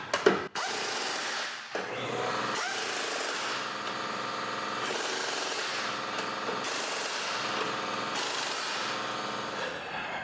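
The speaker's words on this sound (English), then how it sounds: "nuts need to be tightened" Power tool driving nuts on a Toyota Highlander throttle body during a throttle body service, a loud continuous whirring with several surging bursts after a sharp initial clatter.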